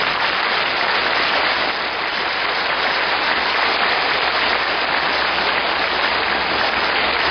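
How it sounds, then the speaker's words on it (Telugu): Steady, dense clapping from an audience at a Pyramid Spiritual Society gathering, a continuous wash of many hands held at an even loudness throughout, with no speech over it. "ఎంత ఎక్కువ చప్పట్లు కొడతావో అంత ఆరోగ్యంగా ఉంటావు"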